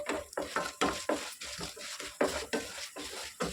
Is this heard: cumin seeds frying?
yes